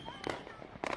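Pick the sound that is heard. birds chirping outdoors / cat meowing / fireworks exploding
fireworks exploding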